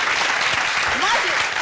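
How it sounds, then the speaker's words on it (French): A studio audience on a television show applauds briefly for friends from the village, a dense burst of clapping with voices heard under it. "On va applaudir pour nos amis du village."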